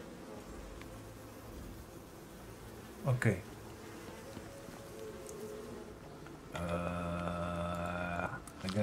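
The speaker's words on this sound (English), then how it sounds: "Oh man, I hate those bees." Insect buzzing from bees in the survival game Icarus, a steady droning hum through most of the stretch that grows louder and more harmonic toward the end, with a brief spoken word over it.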